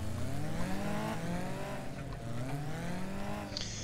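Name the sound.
BriSCA F2 stock cars on the rolling start lap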